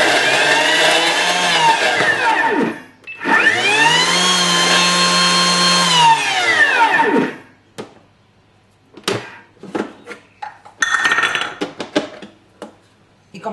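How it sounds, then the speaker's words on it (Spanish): Thermomix bowl closed on bread dough, giving a couple of loud turbo bursts, each a rising and falling motor whine lasting a few seconds, followed by knocks and clatter of the machine and bowl. "Ponemos el vaso en vaso cerrado y le damos un par de golpes de turbo."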